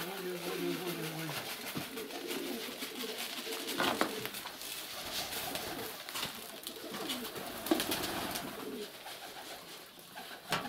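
Pigeons coo and call around a dovecote, a steady chorus of soft bird sounds with occasional wing flutters, while someone speaks over them.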